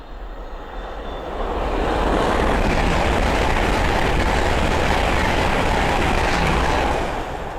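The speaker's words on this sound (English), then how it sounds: "Then we have another Hull train 800 coming through from London King's Cross to Edinburgh Waverley." Hull Trains Class 800 passing through Sandy station on the East Coast Main Line, London King's Cross to Edinburgh service, a broad roaring rush that swells after the first second and holds loud and steady, then eases slightly at the end.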